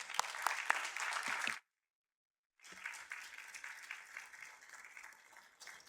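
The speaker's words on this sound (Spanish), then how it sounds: "quisiera que recibiéramos con unos aplausos" Audience applause in a book-launch hall, a dense burst of clapping that stops abruptly, then after about a second of silence resumes and carries on steadily to the end.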